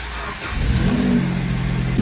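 A replacement used engine in a Jeep Compass cranks and catches, then settles into a steady, close idle with a low rumbling drone that holds for the rest of the moment.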